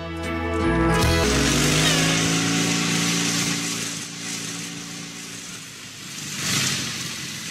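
A small motorcycle engine runs loud and close, a steady rev that rises early and then holds a mid-pitched drone before swelling again near the end, with no talking.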